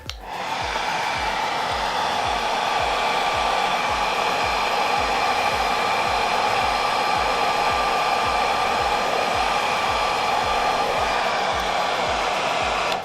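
A heat gun blows steadily and loudly for a long stretch, a constant close whooshing roar, while heating the bumper pin on a Kirby Classic III vacuum cleaner.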